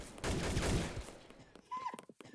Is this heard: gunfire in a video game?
yes